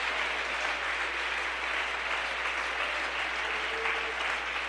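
Sustained, even applause from a church congregation during a Sunday morning Spanish-language service, a broad crowd clapping with no breaks and no talking.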